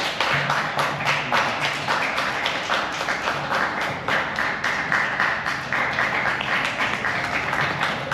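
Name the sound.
audience clapping to welcome a speaker to the stage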